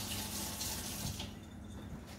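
Steady water runs from a kitchen tap while items are rinsed under it, a continuous close hiss and splash with no pauses.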